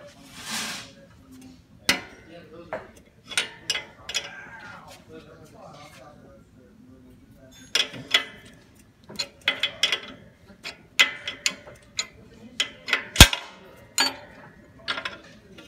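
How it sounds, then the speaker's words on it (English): A 9/16 wrench loosening a bolt on an Atlas trap, with sharp metallic clicks and ratcheting clacks arriving in irregular clusters, close by, while someone talks between them. "So now I got that bolt loose."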